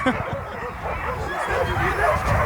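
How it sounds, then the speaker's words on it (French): Siberian huskies at the start of a sled race stage yip and bark amid a crowd's babble, the dog sounds mixed under steady chatter. "C'est des chiens qui sont vraiment attachants. Les huskies sibériens"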